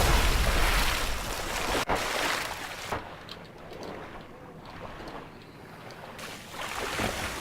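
Falling elevator crashing into water at the bottom of a shaft in the Black Mesa video game, a loud rushing splash and churning water with a sharp knock, then sloshing that fades and surges again.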